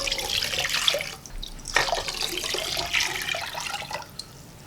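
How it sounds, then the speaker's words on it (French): Water pours steadily from a tap into a pot for ginger tea, an even splashing stream with a few shifts in flow, nearby and with no voices. "nous allons mettre l'équivalent de 2 grands verres d'eau"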